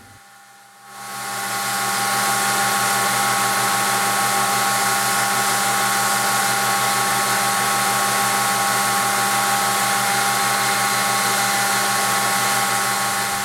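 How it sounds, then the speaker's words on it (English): A power grinder shaping two paired knife handle scales to a gently radiused profile for a camp knife: it spins up within the first second, then holds a loud, constant whine and whir, close and alone. "then I'll grind the two scales to a gently radiused profile"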